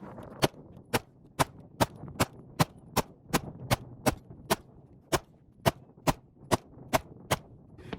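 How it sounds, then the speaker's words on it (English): A Canik TP9 Elite Combat pistol fires a long string of about eighteen shots downrange at a steady, fairly quick pace, each crack sharp and loud with a short decay, and no talking. "We'll put some shots down range to show you what this actual gun shoots like."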